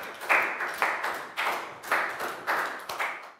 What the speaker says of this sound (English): Big round of applause for Pak Boong